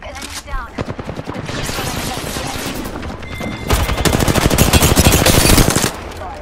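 Rapid automatic gunfire in Apex Legends, a loud dense stream of close shots that swells into a heavier burst partway through before cutting off, with a few scattered shots leading in.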